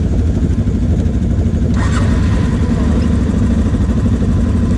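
ATV engines idling and running outdoors before a ride in Puerto Rico, a loud, continuous low rumble that holds steady throughout.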